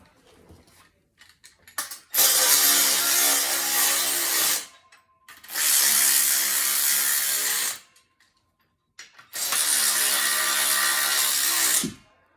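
Three sustained bursts of ratcheting or power-driver tightening on a Marcy SM-4903 home gym frame, each about two to three seconds long with short pauses between them, close and fairly loud.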